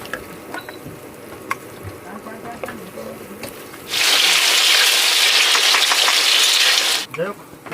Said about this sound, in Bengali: পেঁয়াজটা কিন্তু বন্ধুরা হালকা একটু ভেজে নিয়েছি